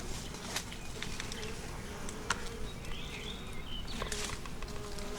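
Honeybees buzz steadily in an open hive during an inspection, a dense, continuous drone close by with scattered brief insect whines and no talking.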